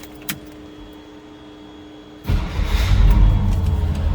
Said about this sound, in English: let's go ahead and fire this up so you can hear it run